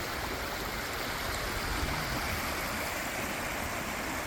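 Stream water rushes steadily over a washed-out road in the hills of Scotland, Connecticut, a close, continuous broadband wash with no breaks and no voices.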